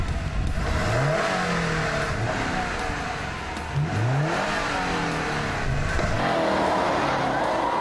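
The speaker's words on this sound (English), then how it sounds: "The four-wheel drive grips the tarmac and pushes the STI vehemently ahead." A Subaru Impreza WRX STI with four-wheel drive accelerates hard on tarmac during a fast lap, its engine rising through repeated gear pulls with loud, close revving and brief tire noise.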